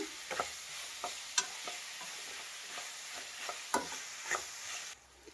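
Capsicum and tomato curry being stirred in a pan, with soft sizzling and frying under a series of scraping spoon strokes at irregular intervals.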